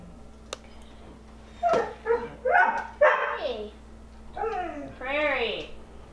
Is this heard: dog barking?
yes